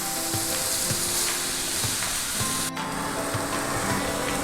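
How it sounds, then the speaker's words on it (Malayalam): Ripe banana frying in a pan and being stirred, a steady close sizzle with soft regular scraping knocks from the spoon, no speech. "ഒരു ഫ്രൈ ആകുന്നത് വരെ, ഒരു ഹാഫ് ഫ്രൈ നിങ്ങളുടെ ആവശ്യമനുസരിച്ച് ചെയ്യാം, ഒന്ന് മൂത്ത് നന്നായിട്ട് വരുന്നവരെ ഒന്ന് ഇളക്കി കൊടുക്കാം."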